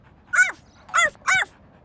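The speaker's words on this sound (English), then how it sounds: "Listen carefully to hear which dog has the same bark." A cartoon dog gives three short, high yipping barks in quick succession, clear and close with a brief pause after the first.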